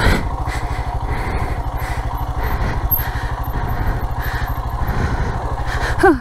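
Motorcycle engine held in third gear while riding downhill, a close, steady buzzing thrum with rapid regular pulses and a short rising whine at the end.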